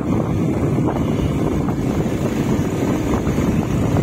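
Strong cold wind on a mountain pass at Mayudia, Arunachal Pradesh, roars steadily across the microphone, a dense, continuous rush of buffeting noise with no voices.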